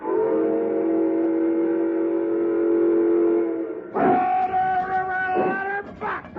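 A steam locomotive whistle from a radio drama blows one long, loud, steady wailing blast, then cuts to shorter, choppier whistle tones.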